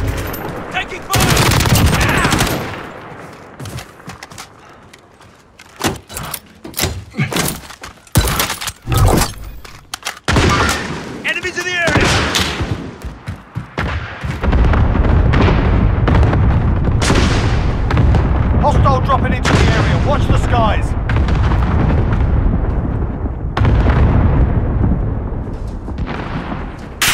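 Call of Duty: Warzone battle royale combat with heavy automatic gunfire, booming explosions and artillery, loud and nearly continuous, with a radio voice calling out at the start.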